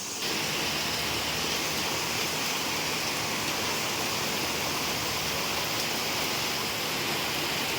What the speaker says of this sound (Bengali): বলতে না বলতেই বৃষ্টি এসে গেছে মুসুল ধারে